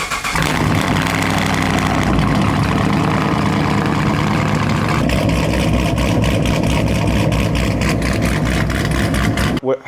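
A straight-piped Chevrolet Camaro cranks and fires up, then settles into a loud, raspy, pulsing idle that rumbles steadily and close for nearly ten seconds with no voices.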